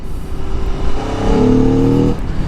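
A loud 2021 Aprilia Tuono 1100 Factory motorcycle engine revs up, its pitch climbing and holding high for about a second before easing off, with a steady mechanical roar throughout.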